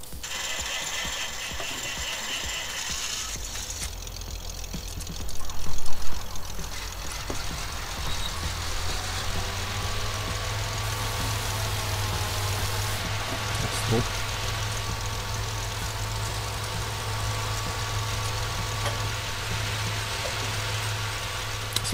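Car engine idling in the farming video game Farming Simulator 19, a steady low mechanical drone with a ratcheting rattle, starting after a few seconds with a brief louder swell, continuing evenly throughout.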